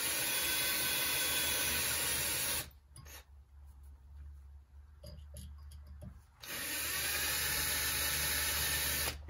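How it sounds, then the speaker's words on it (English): A drill bores slowly into the hydraulic trim and tilt cylinder of a Volvo Penta Duo Prop outdrive, a loud high whine of grinding that stops for several seconds, then starts again. "Okay, so then we're gonna drill those."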